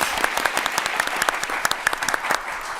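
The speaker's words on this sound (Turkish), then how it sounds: "Ceyda Hanım'a alkış. Alper Bey'e de alkış." A game-show studio audience claps for contestants Ceyda and Alper, a short burst of crisp, fairly close applause with distinct individual claps standing out.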